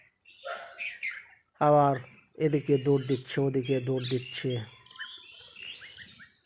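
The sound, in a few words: bulbul birds chirping on a rooftop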